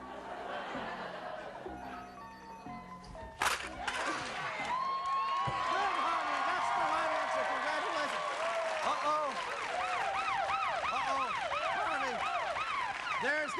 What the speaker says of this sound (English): There's that warning siren, Harvey. It's the warning siren